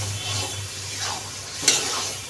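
Boiled taro being stirred into salted hilsa fish and spices in a pan, with a soft, continuous scraping and gentle sizzle plus one sharper clink near the end, heard up close with no talking.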